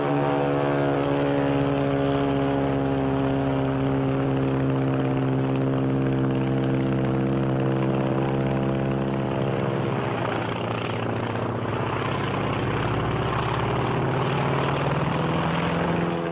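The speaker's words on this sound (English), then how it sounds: "That's a Zero, the real McCoy." A Japanese Zero WWII fighter plane in flight, its propeller engine droning steadily and loudly throughout, the harmonic tone shifting in pitch partway through as it passes.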